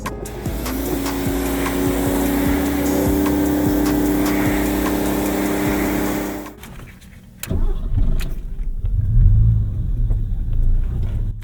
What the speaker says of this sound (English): starts like an old car, which is so funny.